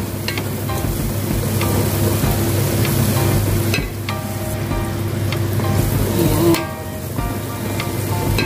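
Boiled string bean seeds being stirred as they fry in a hot pan, a loud continuous sizzle with scraping spoon strokes and a few sharp knocks against the pan.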